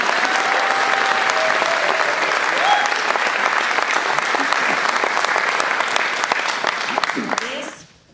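Loud, sustained applause from a concert audience at an orchestra performance honouring a composer. The dense clapping continues steadily and then fades out at the end.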